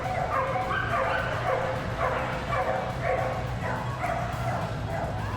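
Dogs at the Crufts 2013 canine cross-country display, including a yellow Labrador and spaniels, give repeated close yips, barks and whimpers over a constant crowd murmur.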